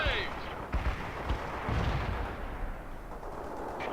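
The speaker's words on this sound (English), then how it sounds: "Launching grenades." Rapid gunfire and grenade launches crack and thump through a World in Conflict battle, with dense overlapping reports, a few sharper blasts and muffled voices under the combat noise.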